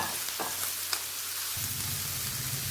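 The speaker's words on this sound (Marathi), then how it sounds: "यामध्ये मी ह्या सोयाबीनच्या वड्या टाकून ह्या सगळ्या व्यवस्थित भाजून घेत आहे" Soya chunks roasting in oil with red chilli powder in a pan, giving a quiet, steady sizzle with a few soft stirring knocks over a short stretch.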